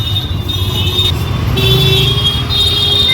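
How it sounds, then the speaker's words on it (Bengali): Heavy traffic jam in a Varanasi market street, with several loud car horns sounding in long overlapping toots over a steady rumble of engines nearby. "কাশির বাজার যানজট আছে কিন্তু প্রচণ্ড যানজট"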